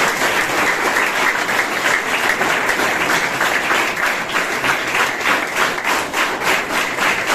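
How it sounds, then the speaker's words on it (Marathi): Schoolchildren at a notebook and school bag distribution event clapping loudly and steadily for Rahul, a dense sustained round of applause close by. "आपण एकदा जोरात राहुलजींसाठी टाळ्या वाजवल्या"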